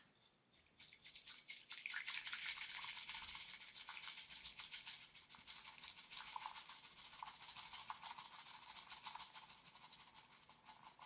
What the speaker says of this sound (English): then put the whisk in and then start whisking, but try to make straight lines like this